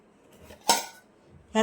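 A small lidded bowl handled out of a fridge, giving a few short, close clinks and knocks of dishware with quiet gaps between them and no talking.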